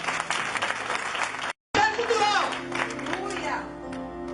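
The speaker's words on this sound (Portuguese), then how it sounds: "Você vai aplaudir da palma toda." A church congregation claps and cheers during a sermon, with a short cut partway through, then a preacher's voice continues over fading applause.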